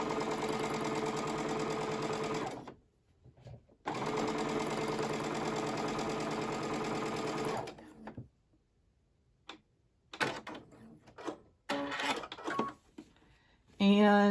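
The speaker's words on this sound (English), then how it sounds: "I start a little bit slow and then speed up as my needle catches the fabric." A sewing machine stitches quilt fabric pieces for a nine-patch block, starting slow and speeding up into a steady close mechanical whir, then stopping and giving way to scattered clicks and handling noises.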